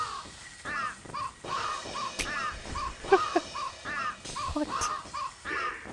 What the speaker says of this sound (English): Little pigeons! Little birdies!